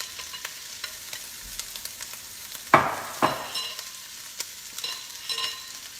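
Sausage, onion and mushrooms sizzle steadily as they brown in a pan on the stove, with a few louder scraping stirs breaking through the continuous frying hiss.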